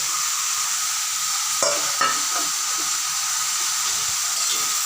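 Previously fried prawns are stirred into white water lily stems in a pan, a steady close sizzle and hiss with a couple of sharp spoon knocks and scrapes, no talk.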